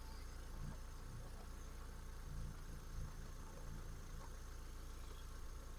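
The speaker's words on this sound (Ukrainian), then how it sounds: "Мотор працює тихорівно, він в робочому стані" A 2009 Volkswagen Touran 1.6 MPI engine idles steadily at low volume, a smooth continuous rumble with no other sounds.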